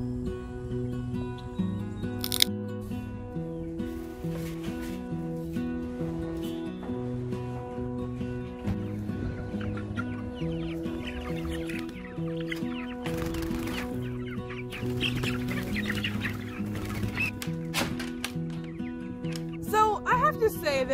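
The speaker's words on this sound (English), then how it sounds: "I'm about to go out and feed the meat chickens" Pastured meat chickens cluck and murmur throughout, close by in a steady chatter of short calls, with a person talking over them much of the time.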